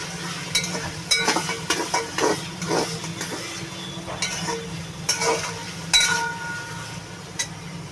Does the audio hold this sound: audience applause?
no